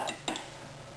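A spoon stirs dry muffin ingredients, including sugar, in a bowl, giving a few quick, faint clinks and scrapes against the bowl's side.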